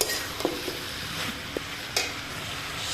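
Mixed vegetables dry-fry in a pan over a high flame with a soft steady sizzle, broken by a few brief scrapes and knocks of a spatula stirring them, close and quiet.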